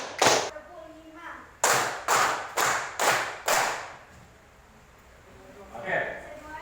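Rhythmic hand claps from a class of schoolchildren in an art lesson, one clap followed after a pause by a tight run of five loud sharp claps, then a quieter murmur of voices.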